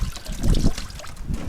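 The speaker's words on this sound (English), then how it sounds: "You rinse the fish." Running water splashes and trickles over a freshly gutted fish being rinsed, a short, loud burst of close, uneven splashing.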